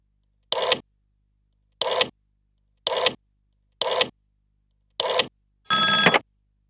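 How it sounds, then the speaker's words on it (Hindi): A telephone rings in six short, evenly spaced bursts against silence, the last burst longer and more tonal than the rest. "अब अरुण को फोन करो"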